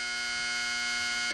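A game show buzzer sounds on a 1970s television panel show, one loud, steady electric buzz lasting just over a second before cutting off abruptly.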